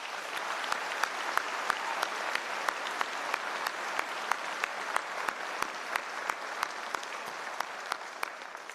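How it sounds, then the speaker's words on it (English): Convocation ceremony audience applauding two award winners, a steady spread of clapping from a large hall with a regular sharp clap or beat standing out roughly three times a second throughout. "award winners another round of applause?"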